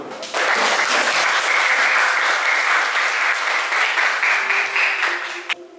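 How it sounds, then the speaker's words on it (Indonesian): Crowd applause at an Islamic poetry recitation event, a sudden burst of many hands clapping that holds steady for about five seconds and cuts off, with a brief voice at the end. "Ya, tepuk tangan dulu."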